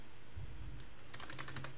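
A few scattered taps, then a rapid run of close keystrokes on a computer keyboard while configuring a home Slackware server, crisp and evenly paced, with no voices.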